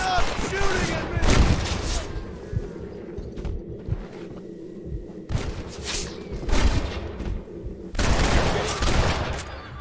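Gunfire erupts in bursts during a Red Dead Redemption shootout, loud booming shots in separated clusters with quieter gaps between them and some voices underneath.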